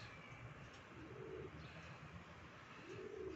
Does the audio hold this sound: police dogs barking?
no